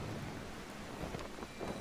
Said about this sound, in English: All the water that used to be here has turned into rain.